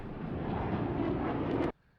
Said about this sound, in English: And then I added this Falcon sound effect for the airplane.